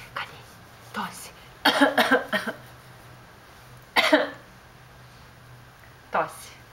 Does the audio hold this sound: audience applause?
no